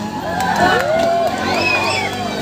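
A crowd at a costume competition cheers and shouts, with rising whoops and high voices over a lively background babble.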